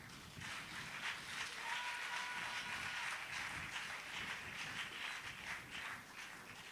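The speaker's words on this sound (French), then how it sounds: "On acclame le Seigneur." A church congregation claps and acclaims together during a sermon, a faint, dense wash of applause with rhythmic clapping that swells and ebbs across the clip.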